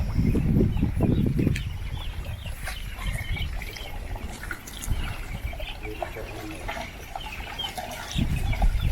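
Young chicks in a poultry farm shed chirp constantly in a dense, overlapping chorus, with a few low thuds and bumps close by.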